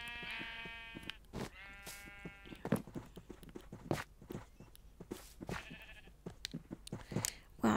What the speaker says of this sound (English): No joke, this is actually another pink sheep.